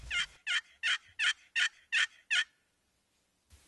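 Wild turkeys gobble during a turkey hunt: seven quick, evenly spaced gobbles ring out in a tight series, then stop and leave near silence with a faint rustle at the end.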